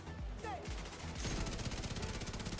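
Light machine gun fire in The Division 2, opening with softer ambient game sounds and a brief rising tone before a dense, rapid burst of shots rolls in and continues steadily to the end.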